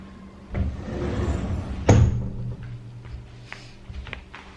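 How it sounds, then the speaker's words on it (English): A sliding door is pulled shut indoors, with a muffled rumble of movement ending in a single firm thud partway through, followed by quieter shuffling and faint clicks. "Let me just close the sliding door because I think there's a lot of trains and stuff going past."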